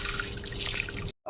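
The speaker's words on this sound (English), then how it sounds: "now I'm going to add my water phase into my oil phase" Heated water phase poured into the oil phase of a homemade snail mucin anti-aging skincare cream gives a steady, close liquid pour with a faint hum beneath. It stops abruptly before a brief final sound, with no talking.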